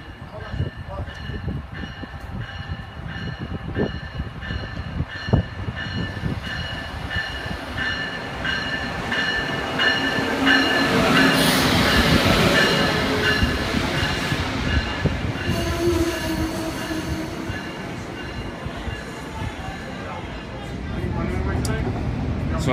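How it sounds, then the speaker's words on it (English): Steady rumble of a train in motion through Delaware and Philadelphia, wheels clacking and occasional squeals over a continuous roar, with a faint voice at moments. "after a rather nice train ride through the streets of Delaware and Philadelphia"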